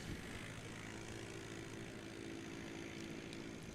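A small Cub-class airplane with big fat tires lands at a STOL competition in Sulphur Springs, Texas. A steady propeller engine drone runs throughout at moderate distance with no talk.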